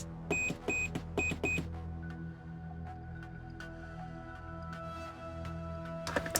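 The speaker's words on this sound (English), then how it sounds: "It's my beep button." A continuity tester beeps four times in quick succession, with steady electronic tones. The beeps come during soldering work on an Arduino MIDI LED display shield. A quiet hum and a few faint clicks follow.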